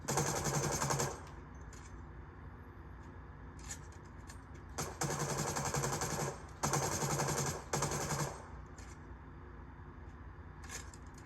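A suppressed SCAR L rifle with a red-eye sight fires in a video game, in several separate bursts of rapid, muffled shots with short pauses between them, fairly loud and without talk.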